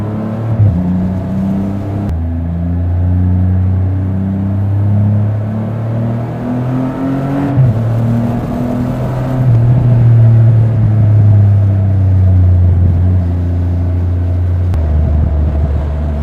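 A 2021 Triumph Rocket 3 GT motorcycle with an aftermarket exhaust rides along, a loud, deep, steady engine drone with gear changes and shifting revs heard close up.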